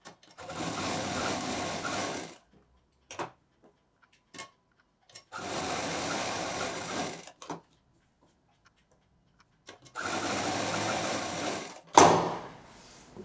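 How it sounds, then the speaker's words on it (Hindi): A domestic sewing machine stitches T-shirt fabric pieces for a baby quilt in three sustained runs of about two seconds each, separated by quiet gaps with small clicks and handling noises, ending on a sharp mechanical clack. "तो इस तरह से रखने के बाद इसको अब हम सिल ही देते हैं।"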